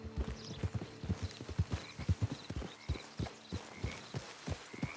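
Horse hooves clip-clopping at a steady walking rhythm in the Red Dead Redemption 2 video game, close and distinct, with a faint snort now and then.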